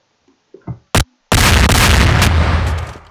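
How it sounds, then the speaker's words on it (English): A blast cannon fires in the Garry's Mod video game: a few small clicks and one sharp pop, then a loud, sustained roaring explosion that slowly fades. "blast cannon."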